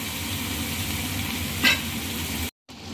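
Ground gongura paste fries in hot oil for gongura chutney, a constant broad sizzle with one brief louder stir or scrape near the middle, then a short cut to silence before the sizzle returns.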